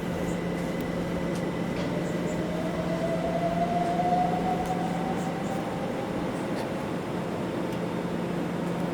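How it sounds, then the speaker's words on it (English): A C2C train pulls away from Upminster Station on a winter afternoon, a steady rumbling hum with a rising electric motor whine that swells and fades, moderately close, with no talk. "The C2C service for Shoebury Nest leaving."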